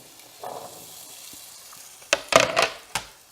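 Potatoes hit hot chorizo oil in a skillet over medium heat, giving several loud bursts of crackling sizzle near the end after a quiet stretch.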